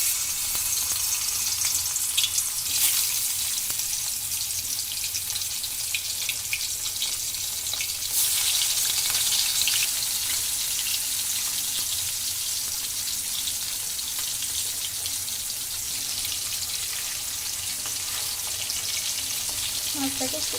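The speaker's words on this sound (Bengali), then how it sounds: "মাছগুলোকে হালকা আঁচে সামান্য পরিমাণে ভেজে নিব" Hilsa fish pieces frying over low heat in hot oil in a wok, a steady, dense sizzle that holds close and even throughout, with a brief brighter hiss partway through and no talking.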